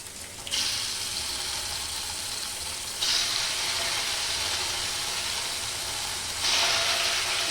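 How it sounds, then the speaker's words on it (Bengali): Chitol fish balls (muitha) dropped into hot oil to fry, a loud, steady hiss that swells in distinct steps as more pieces go in, with no talking. "তেল বসিয়ে দিয়েছি, তেল গরম হয়ে গেছে। এবার এগুলো দিয়ে দিচ্ছি ভাজতে, এইভাবে ভাজবো।"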